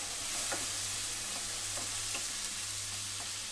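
Pork frying in a pan gives off a soft steady sizzle, broken by light rhythmic scrapes and taps as a utensil stirs the meat at close range.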